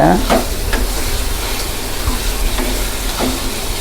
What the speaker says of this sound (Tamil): நன்றாக வதக்க வேண்டும்.